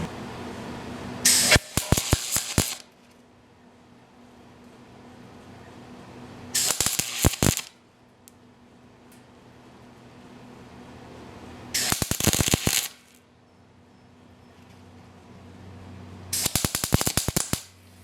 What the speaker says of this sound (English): So I'm just going to do a few spot welds here.